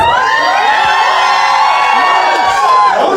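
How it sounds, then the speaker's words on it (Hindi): A live studio audience at a comedy dating-pitch show shouts and cheers loudly. The whoops and yells form a dense, sustained wall of sound close by for the whole moment. "बहुत बराबर ही आप लोगों ने चिल्ला दिया है।"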